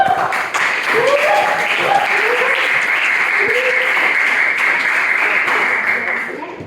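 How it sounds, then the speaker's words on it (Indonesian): A class clapping hands together during a lesson, a loud, sustained burst of many hands, with a voice or tonal sound running underneath before the clapping trails off. "Kita tepuk tangan dulu"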